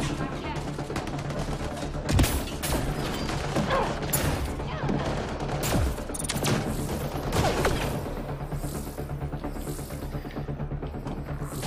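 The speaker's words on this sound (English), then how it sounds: "I'm shooting invisible enemies." Continuous gunfire in Mass Effect Andromeda aimed at invisible enemies, with dense overlapping shots, a few louder bursts, and a voice talking over the shooting.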